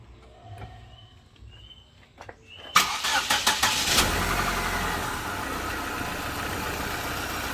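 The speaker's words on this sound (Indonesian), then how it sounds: "Sekarang coba kita nyalakan untuk mesinnya." A car engine cranks and catches after a quiet stretch with faint birdsong, then settles into a steady, smooth idle that carries loud and close to the end.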